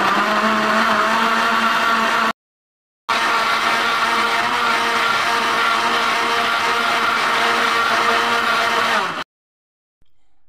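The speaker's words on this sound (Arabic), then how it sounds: "هنشغل الخلاط ونعمل عصير." A blender making fresh strawberry-mint juice runs loud and steady with a whirring motor, stops briefly, then resumes for several seconds before cutting off, starting again faintly at the end.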